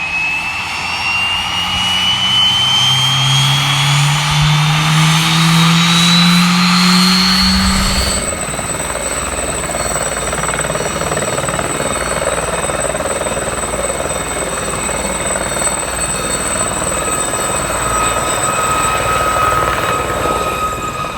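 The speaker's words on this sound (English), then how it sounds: "This is an ex-Army Aerospatiale Gazelle. Nicknamed the Flying Chicken Leg, this has to be the loudest helicopter I've ever been close to." An ex-Army Aerospatiale Gazelle helicopter, very loud and close: a rising turbine whine with a low rotor throb for the first eight seconds, then a steady high-pitched roar that holds without a break.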